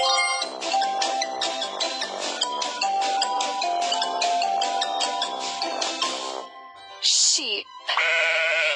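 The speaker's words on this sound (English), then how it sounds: "Sheep." Sheep bleating in a rapid string of loud, close, quavering calls that run for several seconds, followed by a brief pause and two more short bursts of sound.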